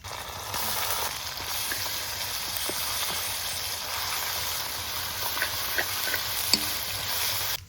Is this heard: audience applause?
no